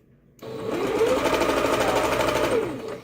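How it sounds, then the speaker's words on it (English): A sewing machine runs steadily for a few seconds as it stitches close to the edges of fabric, a loud close mechanical whir starting abruptly and holding an even rapid rhythm, with no talking. "I'm going to try to sew as close to the edges as I can."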